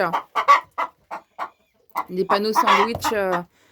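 Chickens in a coop cluck in short separate calls, then break into a louder run of squawking clucks, close by.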